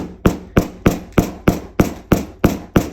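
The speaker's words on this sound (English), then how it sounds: "hammer it. And there's the rivet." Nine sharp, evenly spaced hammer strikes set a metal rivet into jeans, each blow a crisp close knock with a short decay, steady at roughly three per second.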